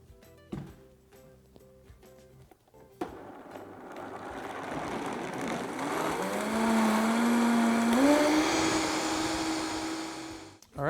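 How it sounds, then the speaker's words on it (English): A kitchen blender whirs through a batch of chaga mushroom elixir, starting after a few seconds of quiet clatter and building into a loud, steady motor whine whose pitch slowly rises and climbs again near the end. "I'm gonna put this on the blender and let it blend for 30 seconds."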